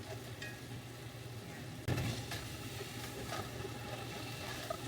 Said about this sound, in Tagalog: Haluin lang ng haluin.